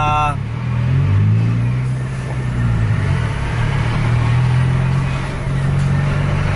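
A Scania truck engine revs hard with its turbo spooling, a loud, close, rising-and-falling roar held for several seconds under a strained mechanical whine.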